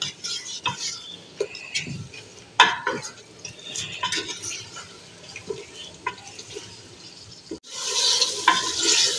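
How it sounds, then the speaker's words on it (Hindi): Spice masala for bhuna gosht frying in a pot, with irregular clattering stirs and spoon knocks over a sizzle that swells louder and more steady near the end. "अब मैं ज़रा इसको 2-3 मिनट ज़रा भूनूंगी"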